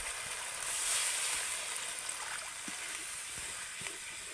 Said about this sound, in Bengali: এবার আমি দিয়ে দেব পরিমাণ মতো জল আর জলটা কিন্তু গরম জলই দিতে হবে এখানে